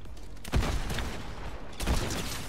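Gunfire during a Fortnite fight, with two sharper bursts standing out over a steady background of game noise and no clear talk.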